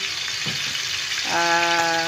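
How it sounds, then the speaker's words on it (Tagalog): Fish sizzles in a frying pan with a soft, steady crackle, joined partway through by a brighter tonal hiss as the frying intensifies; no talking. "Yung ganyan technique, technique sa pag-piprito ng isda."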